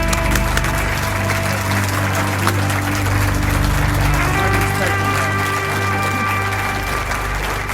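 Vietnam veterans at a Hotel Company reunion applaud together, a steady, dense clapping that holds at even loudness throughout with a faint murmur of voices mixed in.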